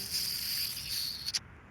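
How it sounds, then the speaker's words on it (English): Giant bees in the Wallace & Gromit adventure game buzz with a faint, steady insect-like drone. The drone runs alone and cuts off abruptly near the end. "Keeping shop open when town's crawling with giant bees."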